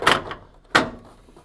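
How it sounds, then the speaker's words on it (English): A plastic detergent drawer is fitted into a Whirlpool washing machine, giving two sharp knocks or clicks about half a second apart, close and fairly loud, with quiet room tone between. "Arrange your detergent drawer so that it can be screwed into position."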